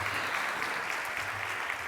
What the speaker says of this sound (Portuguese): A mulherada e homens também aplaudindo,